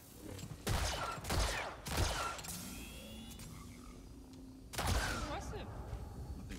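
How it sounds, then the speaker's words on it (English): Blaster shots ring out in the Star Wars Jedi: Survivor video game, several sharp bursts spaced about a second apart then one more after a pause, loud and close, with quieter mechanical whirs between. "So every hit I get is charges up the blaster."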